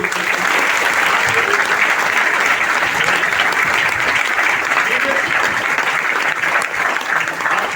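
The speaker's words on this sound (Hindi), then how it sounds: "दिल से उस व्यक्ति के लिए आप ताली बजाओ" Steady, dense applause from a large indoor audience at a lifestyle marketing meeting, loud and continuous throughout, with voices faintly mixed into the clapping.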